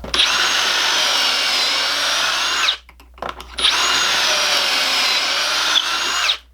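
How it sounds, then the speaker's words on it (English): Power drill boring holes in 2x4 boards, two loud steady whining runs of about three seconds each with a brief pause between, close up and alone. "put 2 holes only in one end of each board"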